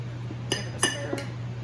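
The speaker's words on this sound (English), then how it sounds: "Give it a stir." A spoon stirs salsa with chunky onions in a bowl, giving three light clinks of utensil against the dish over a steady low hum, close and brief with no talk.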